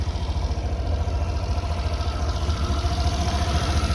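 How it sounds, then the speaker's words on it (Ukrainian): A Suzuki Burgman Street 125 scooter engine idling steadily up close, a continuous low rumbling putter with an even pulse and no talking. "двигун працює ідеально."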